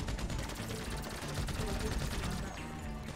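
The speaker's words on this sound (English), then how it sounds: "There's a lot of people in a fucking entrance way here. You have to shoot them. I'm shooting the one in front." Dense rapid gunfire crackles through a GTA 5 heist shootout in an entrance way, sustained bursts of automatic shots fairly close, with players talking over the action.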